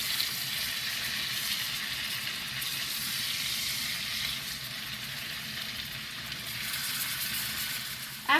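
Blackened salmon fries in a hot pan just after being flipped, a close, steady hiss of sizzling oil that holds evenly throughout with a faint clink near the end.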